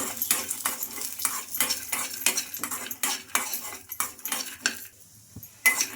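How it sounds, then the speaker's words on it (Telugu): Peanuts fry in a little oil while a spoon stirs them briskly in a metal pan. Repeated scraping and clinking strokes ride over a light sizzle, close up and with no talking. "ఇవి పల్లీలను బాగా ఫ్రై అయ్యే వరకు ఫ్రై చేసుకోవాలి ఇలా పల్లీలు వేగుతుండగా ఒక స్పూన్ ఆయిల్ అయితే వేసుకోవాలండి"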